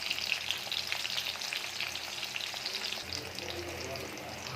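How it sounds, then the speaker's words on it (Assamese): Onions frying with curry leaves in a pan, giving a continuous close sizzle with light stirring. "পিঁয়াজটো অলপ ৰঙচুৱাকৈ ভাজি ল'ব"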